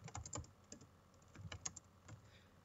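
Quiet, rapid tapping of computer keyboard keys in irregular bursts, soft and close, with a faint hum underneath.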